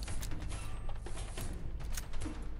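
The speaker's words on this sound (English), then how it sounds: "Probably gonna go through this door." A door mechanism in the Fallout 4 video game grinds and creaks open with mechanical ratcheting and gear-like clatter, a steady dense rumble lasting the whole stretch at moderate volume.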